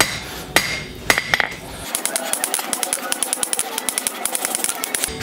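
A copper spatula's tang struck on an anvil during forging, with a rapid, steady series of sharp metallic hammer blows up close, after a few scattered heavier hits at the start.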